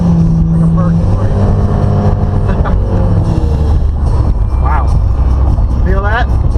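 A Honda HR-V's 1.8-liter engine drones loudly as it accelerates, heard from inside the cabin amid steady wind rush, with brief voices near the end.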